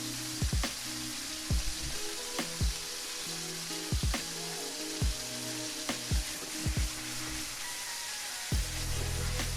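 Oil sizzles and crackles steadily as pieces of liver fry in a pan, with repeated sharp pops and spatters scattered throughout; no one speaks.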